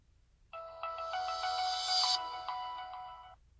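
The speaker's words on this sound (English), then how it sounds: "the sound that I was talking about that it makes, let me try turning it on" Anker Roav Dashcam C2 chiming its startup tone when switched on, a clear electronic ringtone-like melody of stepped bright notes lasting about three seconds, close and alone against near silence.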